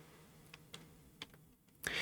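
Computer keyboard keys are pressed a few times, sparse faint clicks at a desk while navigating a scene in Twinmotion 2022.2, with quiet room hiss between.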